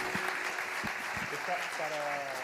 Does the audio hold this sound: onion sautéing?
no